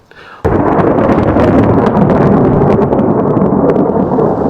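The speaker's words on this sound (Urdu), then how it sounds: "یہاں پر اتنے خطرناک بادل گرج رہے ہیں بھائی، اتنی آوازیں خطرناک" Loud thunder from storm clouds erupts abruptly after a brief quiet start, then rolls on as a sustained, heavy rumble beside a mosque in Iraq.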